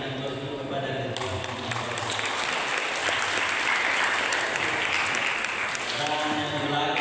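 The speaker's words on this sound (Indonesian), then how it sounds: "Mari kita berikan aplaus dulu kepada Ketua" An audience at a university anniversary reception applauds the chairman, a dense, steady wash of clapping that holds for several seconds, close and fairly loud, with a voice faintly present underneath.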